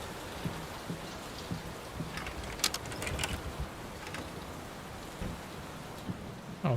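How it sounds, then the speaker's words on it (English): Steady rain falls through a storm in the horror game Layers of Fear, a soft even wash with a few sharper drips and crackles standing out, fairly quiet throughout. "Will this storm ever run out of rain?"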